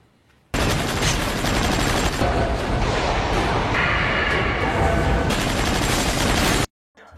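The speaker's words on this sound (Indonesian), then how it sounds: "terjadi baku tembak di dalam pabrik tersebut yang mengakibatkan satu dari teman perampok mati" Continuous heavy gunfire from a film shootout inside a factory, loud and dense bursts running for about six seconds before cutting off abruptly.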